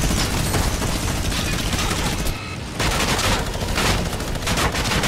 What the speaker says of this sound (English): the minigun's doing a lot of damage